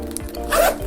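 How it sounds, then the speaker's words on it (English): A leather tassel zipper pull on a Dooney & Bourke handbag drags a zipper along in one quick, close rasping pull of under a second. "This is also a tassel leather zipper pull."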